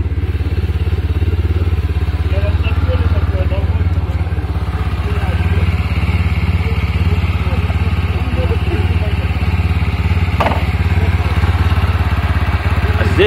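A Minsk Goose 400 motorcycle engine runs with a steady low, throbbing thrum, close and loud, with light mechanical clatter on top and quiet background voices now and then.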